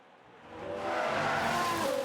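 A Ferrari race car spins out in F1 Manager 22, engine and tire noise swelling quickly into a loud sustained skid with a rising whine, heard alone.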